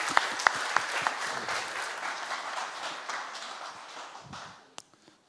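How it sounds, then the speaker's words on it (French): Conference audience applauding a speaker after a talk on Web3 and the metaverse, a dense steady wash of clapping with a few sharp nearer claps early on, gradually thinning and fading out near the end. "On peut l'applaudir s'il vous plaît."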